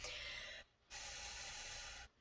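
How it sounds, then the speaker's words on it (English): Breath blown steadily over hot water from a microwave, cooling it before mixing with yeast: two breathy hissing gusts close to the mic, the first about half a second and the second longer, separated by a short pause. "Let's just blow on it a second."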